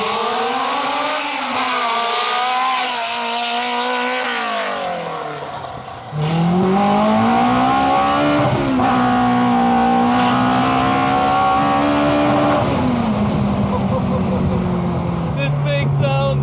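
A K24-swapped Honda mini-truck engine screams toward 10,000 RPM, loud and close, climbing in pitch through repeated gear changes with a brief dip partway through, while people talk over it.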